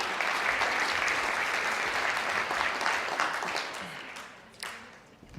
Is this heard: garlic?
no